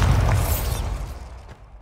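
A Bombarda spell explosion in Hogwarts Legacy, a loud, deep booming blast with a rumbling low end that fades out over about two seconds.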